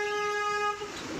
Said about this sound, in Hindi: लंबा हॉर्न मारा करो थोड़ा